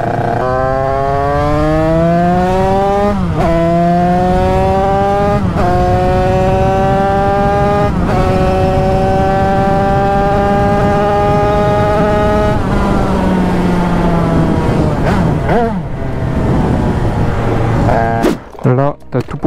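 A 100cc Fast moped engine runs with a rich, buzzing two-stroke note during carburetor tuning. It revs up and down in repeated rising sweeps, loud and close, then cuts out near the end.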